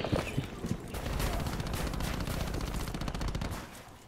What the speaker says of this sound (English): Look at that P90 shot.